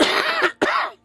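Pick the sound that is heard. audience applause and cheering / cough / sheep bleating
cough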